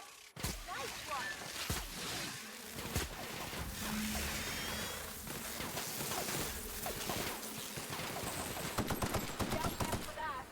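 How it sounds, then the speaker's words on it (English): Rapid bursts of gunfire from The Outer Worlds, an outdoor firefight with dense volleys crackling steadily throughout and sharper rattling near the end. "Opening fire!"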